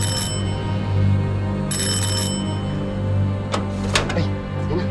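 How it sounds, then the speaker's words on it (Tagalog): Doorbell chimes ring out in two bright bursts at home, followed by a couple of sharp knocks or clicks, over a steady low hum. "Yung doorbell."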